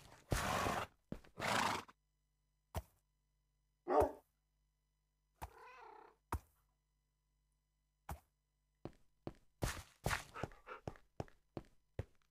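Horses neigh in the video game Minecraft: several loud whinnies come in separate bursts with short silent gaps, mixed with a few softer calls and quick clicking sounds toward the end. No one speaks.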